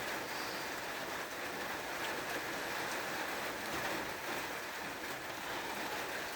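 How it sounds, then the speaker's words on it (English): Rain falling outdoors, a faint, steady hiss and patter that holds evenly throughout with no voices. "I'm sitting outside and it's raining. That's the noise."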